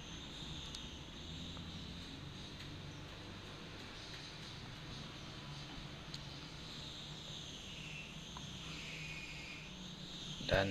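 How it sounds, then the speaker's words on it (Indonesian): Electric grinder sanding a terrazzo pot, a steady loud whine with a broad rough grinding roar that holds throughout, pitch shifting slightly as pressure changes, with a sharp bump near the end. "Jadi sekarang kita masuk proses pengamplasan menggunakan mesin gerenda."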